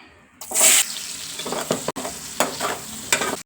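Spices for a tempering hit hot oil with a sudden loud sputtering burst, then crackle and sizzle in bursts with a sharp stirring clatter, close and without talk.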